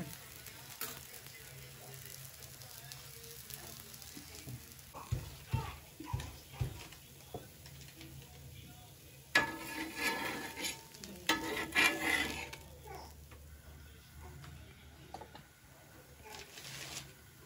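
Oil sizzles in a pan in a home kitchen, a quiet, steady frying hiss broken by stirring and clattering utensils, with louder bursts of bubbling partway through and voices talking nearby.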